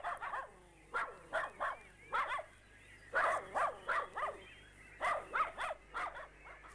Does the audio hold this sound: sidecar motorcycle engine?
no